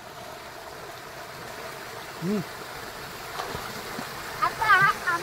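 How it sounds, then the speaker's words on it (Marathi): Water pours steadily over a small dam as a waterfall, a constant close rushing wash. A person speaks briefly over it, and a few louder splashes come near the end. "आणि हा आहे आमचा धबधबा आणि मग पाणी आहे तुम्हाला दाखवतच आहे"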